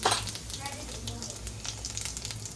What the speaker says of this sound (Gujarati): આમાં જીરું નાખી દે લસણ થોડુંક વઘારી નાખી દે